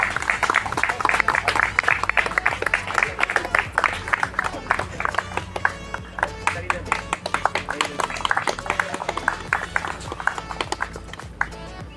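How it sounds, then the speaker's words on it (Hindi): A crowd claps loudly and continuously, dense rapid applause sustained without a break for the whole stretch. "जोरदार तालियां हो और तालियों का उद्घोष होता ही रहे।"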